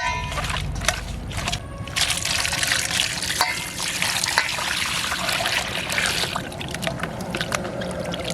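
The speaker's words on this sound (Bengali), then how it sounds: "এখন লবণ দিয়ে ধুয়ে নেব আরেকবার।" Cut fish being washed with salt under running water, a continuous splashing and trickling close by with occasional knocks of handling.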